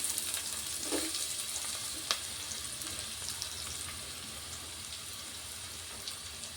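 Onion pieces frying in hot oil for a Telugu brinjal curry make a faint, even sizzle with an occasional soft tap, and nobody talks over it.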